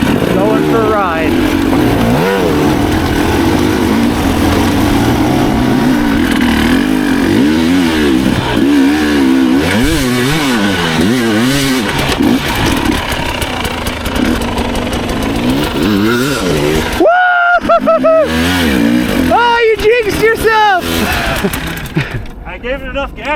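A dirt bike engine revs hard under throttle during an off-road riding training session, rising and falling in loud, close, repeated surges with a brief drop in the middle, while people talk over it.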